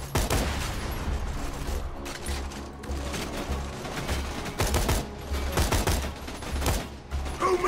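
Rapid gunfire from a gun in Borderlands 2 comes in dense, loud bursts of repeated shots, close and nearly continuous, with brief gaps between volleys and mechanical clatter mixed in.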